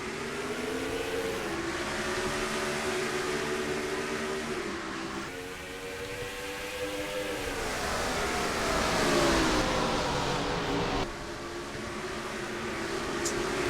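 Sprint cars race around the oval at St. Louis in NR2003, a steady roar of engines whose pitch rises and falls as the field passes. It plays continuously at a fairly even level with no talk.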